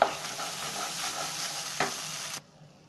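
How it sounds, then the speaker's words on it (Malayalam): Onion and tomato paste sizzles in oil while being stirred for a vegetarian thali, a loud close hiss with a few scraping strokes and a sharp tap before the frying noise cuts off abruptly near the end. "ഇത് നന്നായിട്ട് എണ്ണ തെളിഞ്ഞ് വരുന്നത് വരെ ഒന്ന് വഴറ്റിയെടുക്കണം."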